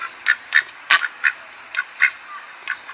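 Ducks quack in a steady run of about ten short, nasal calls spaced roughly evenly, close and clear, with no voices.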